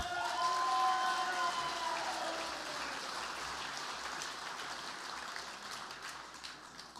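An awards banquet audience applauds at length, a dense wash of clapping that swells early and slowly thins, with a lingering tone at the start.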